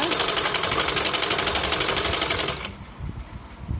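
A sewing machine runs fast and steady while stitching a blouse hook strip, with a rapid close mechanical chatter that stops abruptly, followed by a few soft handling knocks.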